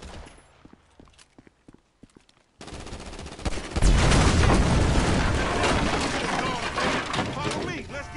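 Gunfire in Grand Theft Auto V: a few scattered sharp shots, then a loud sustained barrage of automatic fire and explosions filling the rest, with voices talking underneath.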